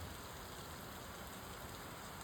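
Steady heavy rain pours down in a constant, even hiss with no breaks, fairly soft and distant, and no voices, in Sikhwala village, Lambi block, Punjab.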